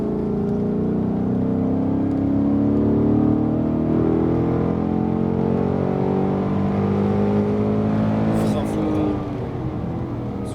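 Ford Mustang Bullitt accelerating on a race track at Le Mans, a steady loud engine drone heard from inside as revs build, with a voice talking over it.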